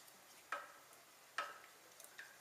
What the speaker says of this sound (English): keep stirring, returning to the heat